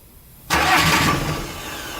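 A freshly rebuilt diesel engine in a Fiat Ducato van cranks and catches abruptly, jumping from near quiet to a loud, rough running clatter that settles into an idle.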